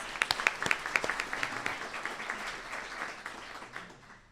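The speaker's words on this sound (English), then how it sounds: "please give him a round of applause" An audience at an internal medicine resident graduation awards ceremony applauds, with dense clapping that starts strong and gradually thins and fades over a few seconds.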